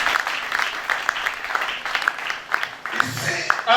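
Church congregation at a Sunday worship service applauding and cheering the Lord, a dense wash of clapping and shouts with scattered sharp whoops, steady and moderately loud throughout.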